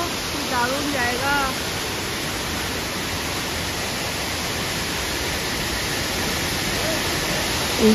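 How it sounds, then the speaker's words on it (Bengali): Outdoors by a natural waterfall, a constant broadband rush of falling water fills the scene. A faint voice is briefly audible near the start. "ওখান থেকে বেরিয়ে দেখো এত সুন্দর একটা ঝর্ণা"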